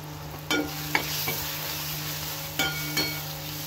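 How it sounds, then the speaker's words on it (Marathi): Spice mixture with turmeric, pav bhaji masala and garam masala stirred and sautéed in a pan for a bread roll filling, a steady sizzle broken by a few sharp spoon scrapes and taps against the pan. "हे सर्व मसाले घातल्यानंतर हे मिश्रण व्यवस्थित परतून घ्यायचे"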